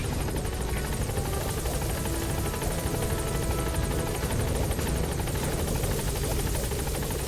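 Steady, loud helicopter rotor chop and engine drone fill the whole stretch during an extraction in Metal Gear Solid V, close and continuous with no talk.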